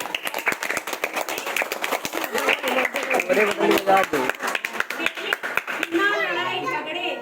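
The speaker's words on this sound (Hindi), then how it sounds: "ताली बजाओ भाई।" Schoolchildren clap together at a primary school Independence Day celebration, a dense rapid patter of many small hands mixed with children's chatter and voices throughout.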